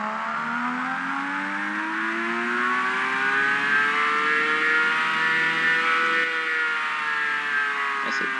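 A fast car in the Apex Racer video game fitted with a Stage X exhaust system revs steadily, its engine tone climbing smoothly and then holding high, a continuous loud whine with no talk over it.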